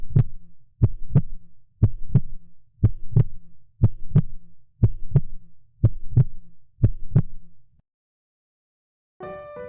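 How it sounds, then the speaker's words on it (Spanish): Heartbeat sound effect with a murmur: eight steady lub-dub double thumps repeat loud and close at an even pace, then stop after a short silence. "El tercer latido, y entre latido y latido, un murmullo"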